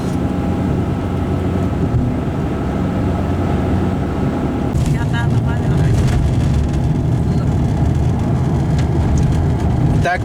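A Lada Granta drives along a road near a river bridge, its steady engine and road rumble loud and continuous throughout, with a brighter rushing swell in the second half as it passes over rougher surface or wind.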